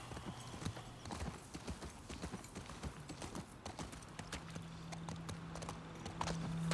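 Steady clip-clop of horse hooves at a walking pace, fairly close, with a faint low hum and soft ambient noise underneath, in the video game The Last of Us Part II.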